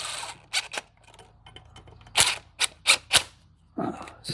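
Sharp mechanical clicks from a torque wrench tightening bolts on a Mustang 4.6 engine, coming in a loose series of distinct snaps, several close together, loud and near with no talk.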